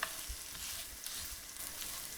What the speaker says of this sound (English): it's all about stir frying it till it gets to that nutty flavor profile